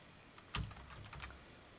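A few quick keystrokes tapped on a computer keyboard, close and quiet in an otherwise still room.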